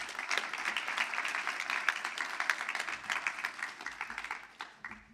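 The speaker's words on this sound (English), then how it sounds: "Please give yourself a round of applause." Graduates at a summer graduation ceremony clap together in a sustained round of applause, a steady, moderately distant crowd clatter lasting several seconds before gently tapering.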